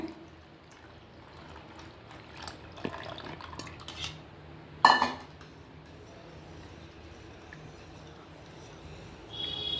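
A spoon stirs a coconut milk and egg mixture for vattalappam in a pot, with sparse, quiet clinks and scrapes against the metal and one louder clatter near the middle.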